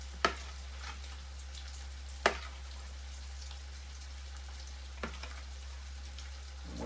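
Crab cakes fry in a pan with a soft, steady sizzle, broken by a few sharp pops and taps, over a constant low hum; a voice briefly speaks.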